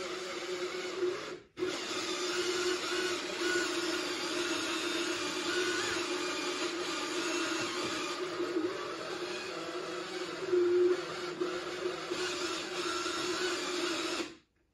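A Wurlitzer 1015 jukebox mechanism cycles to lower its turntable and return a record to the stack, giving a steady close mechanical whir and rattle with a short break near the start.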